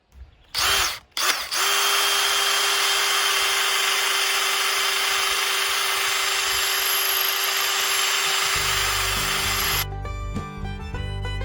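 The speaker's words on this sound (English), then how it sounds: "We're going to drill a hole in one end" Loud whine of a power drill boring a hole in one end of a barrel, two short bursts and then a long sustained run, ending as the motor cuts off.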